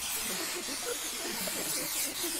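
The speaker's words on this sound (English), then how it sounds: "it doesn't give you enough time to spray paint these" Spray paint can hissing in the video game Love, Sam, a steady broadband hiss that runs continuously and fairly loudly without a break.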